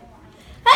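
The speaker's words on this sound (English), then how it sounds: "I need to sneeze again." A single short, sharp burst of a sneeze near the end, following a brief quiet stretch with faint background.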